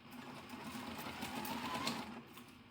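A CM17 sewing machine stitching steadily, its motor whirring with a quick, even needle rhythm, fairly quiet and close, without speech.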